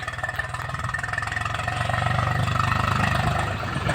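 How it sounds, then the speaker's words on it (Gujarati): A tractor engine chugs steadily nearby with a rhythmic low thumping that grows slightly louder, with no voices. "આપણું ટ્રેક્ટર જો આવી ગયું છે।"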